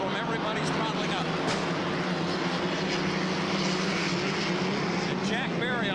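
Piston-engine racing hydroplanes throttle up together at a 1988 Seattle heat, a dense continuous engine roar with a race announcer talking over it.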